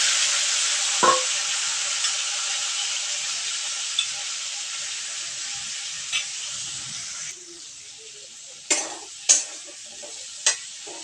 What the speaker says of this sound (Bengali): এই তেলের মাঝে হালকাভাবে আমি লবণ এবং হলুদ দিয়ে পেঁপে এবং কাঁঠাল বিচিগুলো ভেজে নেবো